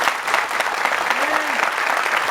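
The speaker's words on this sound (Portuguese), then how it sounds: "Pode aplaudir o Senhor, porque Ele é demais." A church congregation applauds in praise, a loud, dense, sustained burst of many hands clapping, with a brief voice rising faintly beneath it.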